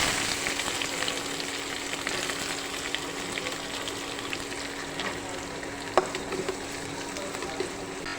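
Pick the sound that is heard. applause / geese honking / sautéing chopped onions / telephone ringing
sautéing chopped onions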